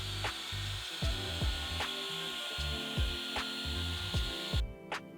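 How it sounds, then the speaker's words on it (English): Hand sanding along the edges of a wooden shelf, a steady scratchy rub with repeated back-and-forth strokes, each stroke marked by a soft thump, close and continuous until it stops abruptly near the end. "he sanded down the edges to soften them up a bit"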